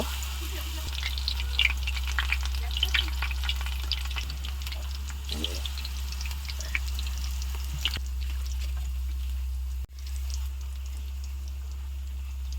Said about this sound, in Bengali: এক্সট্রা বেটার এভাবে ঝরিয়ে নিব তেলের ভিতর দিয়ে দিব